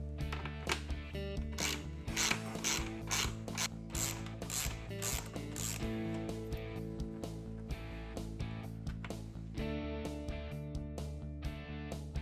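A hand ratchet clicks steadily as T45 star bolts come out of the front cowl on an EZGO RXV golf cart, a close, continuous rapid pawl ratcheting with brief pauses and no talk.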